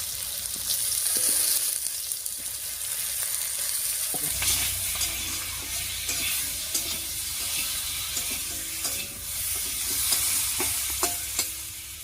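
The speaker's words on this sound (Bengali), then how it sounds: "আলু টমেটো সবকিছু রান্না হতে থাক" Potatoes with salt, turmeric, slit green chillies and chopped tomatoes cook in a pan for a fish curry, giving a steady close sizzle with frying crackle and occasional stirring scrapes, no voices.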